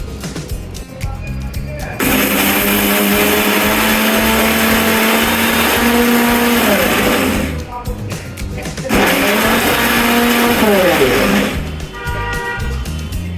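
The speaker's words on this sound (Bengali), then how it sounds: "এখন আমরা এটা ব্লেন্ড করব।" An electric blender grinds mustard seed paste for shorshe bhorta, running with a loud steady whirring motor in two long bursts separated by a short pause, close by and with no talking over it.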